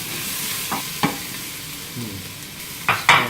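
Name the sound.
onions and garlic frying in a pan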